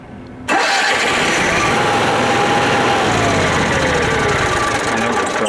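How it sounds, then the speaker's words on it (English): A Cyclone 4006 generator (2023 model) is started with its starter after the pump is primed. The engine catches abruptly and then runs at a loud, steady drone close by until the end. "In order to start it, you'll prime the pump, hit the starter,"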